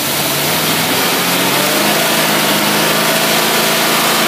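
A small engine with a Predator carburetor free-revs steadily at high revs, a continuous loud mechanical drone with no voices.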